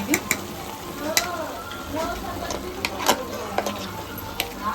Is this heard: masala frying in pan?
yes